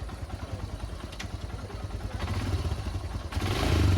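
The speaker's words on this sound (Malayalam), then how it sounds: "എൻജിൻ്റെ സൗണ്ട് കറക്റ്റാണ്" A rental motorcycle being checked before a ride in the Manali and Spiti Valley area, its engine idling with a low, steady chugging throb that grows a little louder toward the end, close by and without talk.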